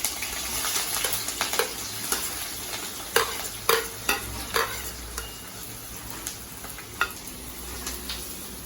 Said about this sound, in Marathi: चांगलं लालसर फ्राय करून घेऊया कांदा आणि मिरची